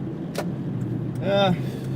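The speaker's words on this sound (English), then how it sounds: "Yeah, I'm currently driving this 1997 Honda. No, not Honda. 1997 Saturn SL2." A 1997 Saturn SL2 four-door with a five-speed manual is being driven, heard from inside as a steady low engine and road hum with a short voice sound over it.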